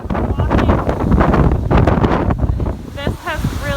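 Gusting hurricane wind from Hurricane Irma at Walt Disney World in Florida, pounding the microphone with loud, continuous roaring buffeting that eases briefly near the end, where a faint voice is heard.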